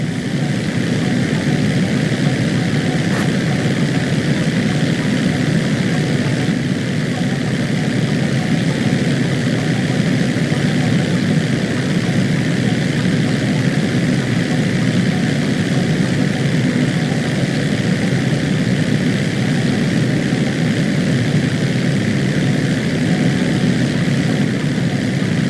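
A propeller crop duster plane flying in Grand Theft Auto 5 gives a steady, loud engine drone that holds unbroken throughout without pauses.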